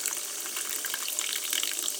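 Club soda streams into a mug in a close, steady splashing pour with bright fizzy crackle over the top, continuous for a couple of seconds.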